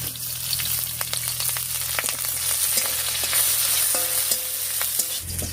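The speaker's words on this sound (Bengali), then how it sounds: "তেল গরম হয়ে গেছে, তেলের উপর দিয়ে দিচ্ছি কালো জিরা, একটা শুকনো লঙ্কা, দিয়ে দেবো থেতো করা রসুন" Nigella seeds, a dried chilli, crushed garlic and slit green chillies frying in hot oil, a busy close crackle and spatter with stirring scrapes, no voices.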